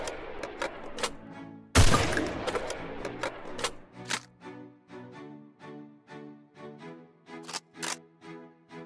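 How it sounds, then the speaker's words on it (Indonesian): Gunfire from a low-reload weapon in the Free Fire game: a loud initial blast followed by a long series of evenly spaced, sharp, ringing shots, steady and close. "Dan ini reload yang rendah."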